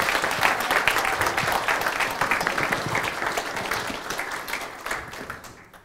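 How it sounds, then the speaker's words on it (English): At a simulation-planning talk, an audience gives a speaker a welcoming round of applause. The clapping is strong at first and gradually thins and fades toward the end. "So let's make the applause for Professor Greenwood."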